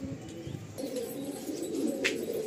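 Aablook pigeons kept as a pair give soft, low cooing that swells and rolls continuously at close range, with a brief higher chirp near the end.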